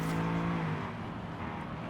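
Engine note of a tail-happy race car held near its 7,000 RPM redline in Forza Horizon 5, a steady loud droning rev that dips slightly partway through, with no voices.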